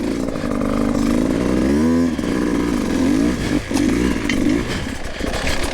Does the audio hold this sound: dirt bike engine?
yes